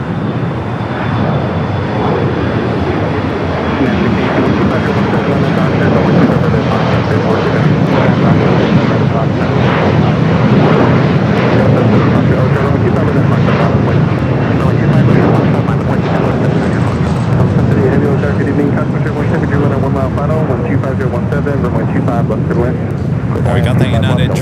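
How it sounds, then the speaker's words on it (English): A United Boeing Dreamliner jet passing at LAX airport, a loud sustained engine roar that builds and holds across the whole stretch, with people talking over it. "We got the United Dreamliner heading here to the south side."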